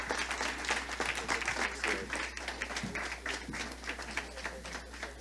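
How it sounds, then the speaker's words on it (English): Audience applause for panelists at a New York City employer discussion event, a steady wash of many hands clapping that holds at moderate level throughout, with no voices over it. "Please join me in a round of applause for our amazing panelists."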